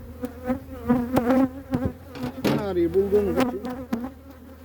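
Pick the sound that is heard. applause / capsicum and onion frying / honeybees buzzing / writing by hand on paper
honeybees buzzing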